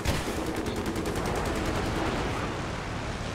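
Rapid automatic gunfire from a military shooter video game, loud and continuous bursts of close shots packed tightly over the whole stretch with no pauses.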